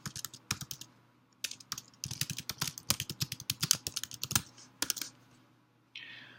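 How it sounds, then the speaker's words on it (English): Typing on a computer keyboard: quick bursts of crisp keystrokes separated by brief pauses, close and distinct in a quiet room, with no speech. "The prompt goes and I can type in text."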